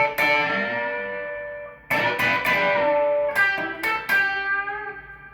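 Electric guitar plays a solo lick from a live performance, loud and close with a distorted, effects-laden tone: sustained bent notes ringing out, then a run of sharply picked notes and more ringing bends.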